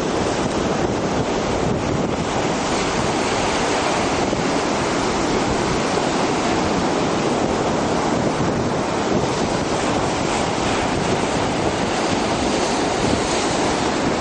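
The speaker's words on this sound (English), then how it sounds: "the waves come in and then they start to wash back, and the new wave comes in and just throws everything around." Ocean waves at high tide wash over an eroded beach by a groin, a loud continuous surf roar with churning turbulence and heavy wind buffeting the microphone, and no voices.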